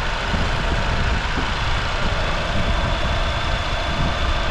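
A 2021 Honda Civic Sport with front-wheel drive idles smoothly, a steady, even engine hum heard close up and alone with no voices over it.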